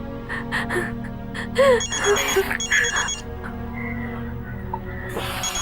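A telephone rings indoors in a Bengali crime drama scene, with short bursts of an electronic trill repeating at a moderate level over background sound.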